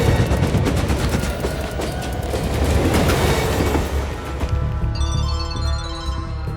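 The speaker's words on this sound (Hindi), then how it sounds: "लोकल ट्रेन 2 मिनट में प्लेटफॉर्म पर आएगी," A local train pulls in at Chandanagar railway station platform in an action film soundtrack, a loud, dense rumble of wheels and rail clatter that fades out as rising musical tones take over.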